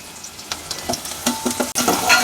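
Chopped onions frying with salt in a pan, a close, constant sizzle broken by quick scraping stirs of a utensil.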